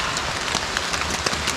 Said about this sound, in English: The rain has started to come down pretty good